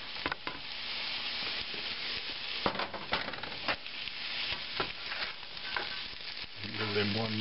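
Bacon sizzles loudly in a hot pan alongside potatoes and onions, a steady crackling hiss broken by sharp clinks and scrapes of stirring, with a few louder pops near the end.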